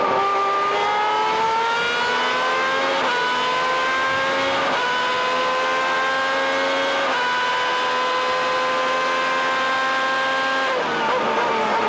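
A SuperLeague Formula race car at Donington Park heard from onboard, its engine screaming loud and close as it climbs through the gears in repeated rising sweeps, with brief drops at each shift and no talk.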